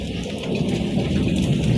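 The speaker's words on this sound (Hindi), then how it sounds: "यहाँ पर चेक करें, हल्की-फुल्की जो बारिश थी ना, वो भी स्टार्ट हो गई थी।" Light rain falling outdoors, a continuous soft hiss of drops with a dense, steady patter that builds slightly toward the end, alone without talk.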